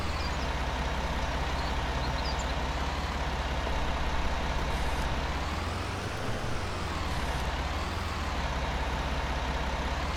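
A Ford tractor engine from the Farming Simulator 19 video game drones steadily, a constant loud mechanical hum that holds throughout with only slight shifts in pitch.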